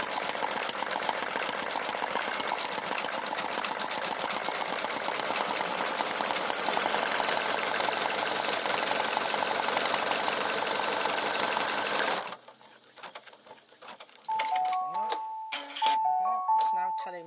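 An embroidery sewing machine stitches steadily in a dense, rapid buzz for about twelve seconds, slowing with stitch density, then stops; a few beeping electronic tones follow alongside quieter handling sounds.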